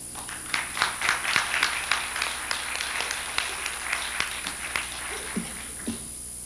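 Audience at a poetry reading applauding, a scattered, moderate patter of claps with a few sharper individual hits, fading toward the end.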